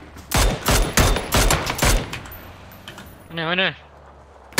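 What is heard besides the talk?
gunfire in PUBG: Battlegrounds video game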